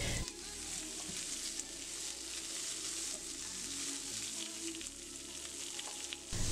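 Vegetables for kung pao chicken sauté in a hot pan, giving a steady, close sizzle and frying hiss that runs unbroken throughout with no talking.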